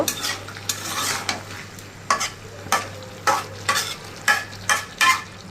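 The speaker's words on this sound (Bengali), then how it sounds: "এখন মাছ দিয়ে একটু নেড়ে চেড়ে নেব, হালকা হাতে উপর নিচ করে নেব" Tengra fish stirred in a frying pan, the spatula scraping in repeated uneven strokes over a steady sizzle, close and fairly loud, with no voices.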